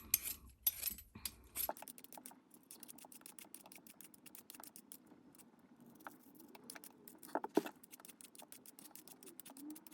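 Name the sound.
peeling potatoes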